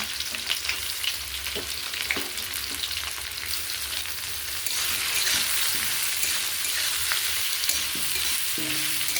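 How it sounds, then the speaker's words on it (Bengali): Potatoes and onions fry in hot oil tempered with dried chilli, sizzling continuously up close while a utensil stirs and scrapes the pan at intervals; the sizzle grows louder midway. "পেঁয়াজটা দিয়ে দিলাম, আলু ভেজে নিচ্ছি, শুকনো লঙ্কা ফোড়ন দিয়ে দিচ্ছি"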